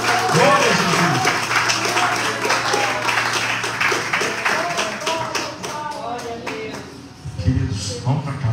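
A congregation in a church claps in a steady rhythm, with loud, continuous beats mixed with voices and a preacher talking over them, the clapping thinning out toward the end.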